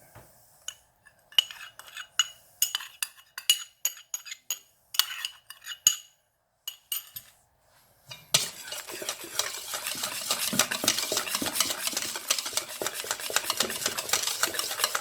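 A spoon scrapes and taps in a bowl as a mixture is stirred into a rouille sauce, first in irregular clinks and scrapes, then a steady, dense rasping stir that continues to the end.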